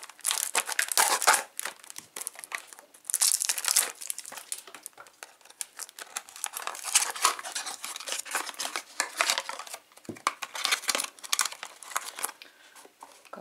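Packaging of a face care product being opened up close, with bursts of crinkling and crumpling of wrapping and a few sharp snips or tears, quiet and irregular.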